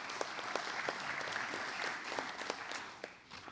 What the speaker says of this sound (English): Let's give New Haven a round of applause this morning.